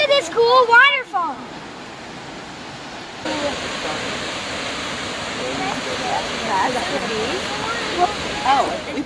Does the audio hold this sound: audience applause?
no